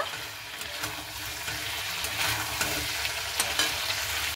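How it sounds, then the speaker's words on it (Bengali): Chicken curry is stirred in a pan, a steady wet sizzle with soft scraping swells as a spoon moves through the thick mixture, close and moderately loud with no voices. "তো আমি এইভাবে কিন্তু খুব ভালো মতো করে নাড়াচাড়া করে নিচ্ছি।"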